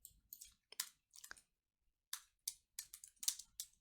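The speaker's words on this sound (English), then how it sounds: "Let's go back and then start typing" Computer keyboard typing, a near, faint run of quick dry clicks in short irregular bursts separated by brief pauses, with no one talking.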